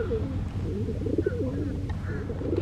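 Pigeons coo repeatedly in soft, rolling calls outdoors, close by, over a steady low rumble of background noise with some talk mixed in.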